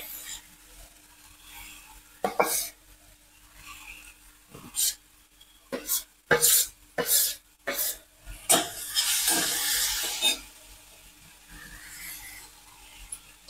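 Grated pumpkin (dangar) sizzling in hot ghee as it is stirred for halwa, with a steady frying hiss and a series of sharp scraping stirs and clinks from a spoon, close up and moderately loud, with no talking.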